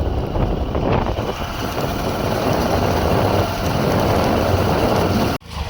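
A farm tractor engine runs steadily close by with a rough, continuous drone and wind buffeting the microphone. It ends with a brief cut near the end, and nobody talks.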